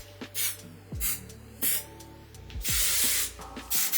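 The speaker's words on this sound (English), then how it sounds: "I need hairspray." Aerosol hairspray sprayed onto hair in several separate bursts, each a sharp, close hiss lasting a fraction of a second to about a second, with brief pauses and faint handling between them.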